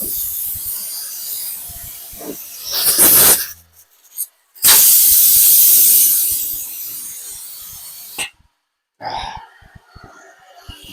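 Air compressor spray gun hissing in loud bursts of varying length, separated by brief silent gaps, close by with no talking.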